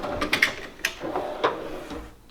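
Tool box drawer opening or closing: a series of quick metallic clicks and rattles as the drawer slides, several sharp ticks in close succession, moderately loud and close.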